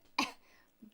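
A single sharp cough bursts out close by, followed by a faint throaty trailing sound and a brief low murmur.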